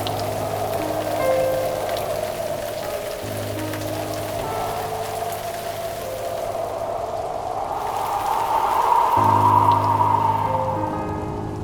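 Rain falls steadily as a continuous, moderate patter and hiss, mixed with a sustained tonal background and music-like drones that swell slightly toward the end.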